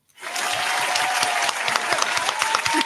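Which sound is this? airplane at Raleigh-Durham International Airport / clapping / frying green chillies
clapping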